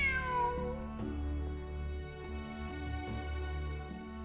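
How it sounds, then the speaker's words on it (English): A cat in Genshin Impact gives one long, drawn-out meow, clear and fairly close, over a soft steady game music bed with no talk. "Look! A cat!"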